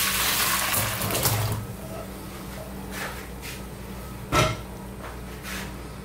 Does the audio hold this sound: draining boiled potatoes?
yes